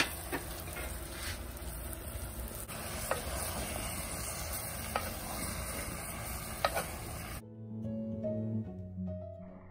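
Chicken with masala and salt being stirred in a hot pan for Kerala-style chicken curry, a continuous soft sizzle with occasional scraping taps, fairly quiet, then giving way to music near the end.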